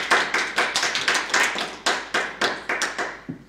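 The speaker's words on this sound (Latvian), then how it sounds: "Citādi teiksim paldies Initai ar aplausiem" Small audience applauding after a lecture on wreaths in a textile collection, a handful of distinct, close hand claps in an uneven rhythm, sparse enough that single claps are clearly separated.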